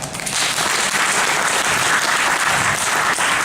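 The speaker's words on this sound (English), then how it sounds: "You got to clap for this guy." An audience at a Toastmasters keynote address applauds steadily, a dense wash of clapping that holds at an even, loud level throughout.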